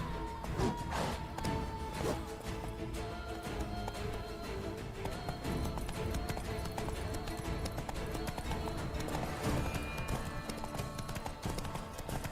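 Geralt's horse Roach gallops in The Witcher 3, hooves clip-clopping in a fast, continuous rhythm with dense rushing noise, loud and close for the whole stretch.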